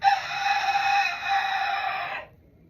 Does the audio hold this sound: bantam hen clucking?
yes